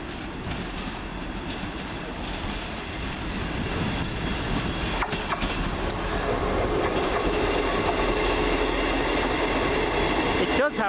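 British Rail Class 158 and 153 diesel units with extra coaches and a London Midland unit roll into Portsmouth Harbour station, a steady broadband rumble and rail clatter building slightly louder throughout, with sharp squeal and click transients late on.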